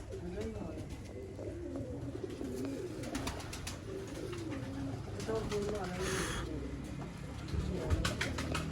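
Soft, repeated coos of pigeons on a rooftop roll along at a steady pace, with a faint murmur of voices and background noise underneath.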